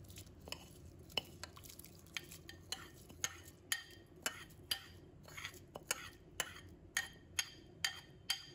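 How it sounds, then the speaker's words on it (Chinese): Washed rice going into a pot of boiling water for plain rice porridge, giving a run of faint, irregular clicks and pattering taps with a soft bubbling bed beneath and no voices. "把刚才洗好的大米放入锅中"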